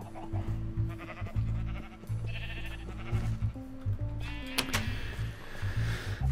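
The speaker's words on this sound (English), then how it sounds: "Oh, sheep." Sheep bleat repeatedly in Minecraft, several wavering calls that rise and fall, heard close over a busy game soundscape, with no talking.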